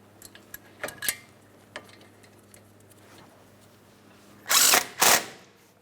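Power tool spinning in brake caliper slider pin mounting bolts on a 2008-2016 Chrysler Town & Country, with light tool clicks and taps first, then two short, loud bursts near the end.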